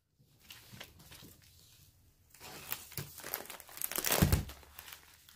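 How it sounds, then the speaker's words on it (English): Packing tape pulled off and pressed onto the seams of an art shipping package, with crinkling and tearing bursts that build to a loud crackle near the end. "sometimes I put extra tape on any seams"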